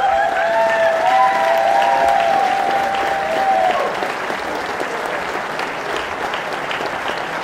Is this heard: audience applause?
yes